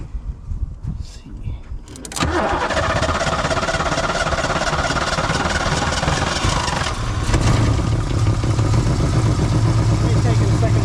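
A Fox Body Mustang that sat for over fifteen years cranks and fires up on its own fuel system, then settles into a loud, steady running rumble that grows rougher and heavier near the end, with people talking around it.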